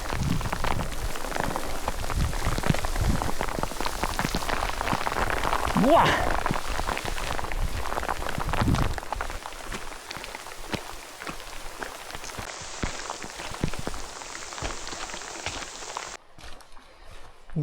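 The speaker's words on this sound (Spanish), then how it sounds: "Cómo llueve." Heavy rain mixed with hail pounds down on Punta Lequeutre, a high mountain peak, as a dense, close patter that eases in the second half. A person exclaims and speaks over it.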